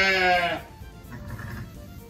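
A loud, close bleat from a ewe or newborn lamb on a farm at lambing time, followed by quieter rustling and faint movement.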